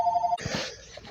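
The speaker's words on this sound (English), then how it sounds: "That's the phone ring." A telephone ringing, heard as a short steady electronic ring tone that cuts off after a fraction of a second, followed by a quiet breathy noise.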